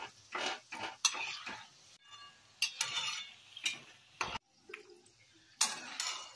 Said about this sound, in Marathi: तोपर्यंत असं सारखं हलवतच राहायचं.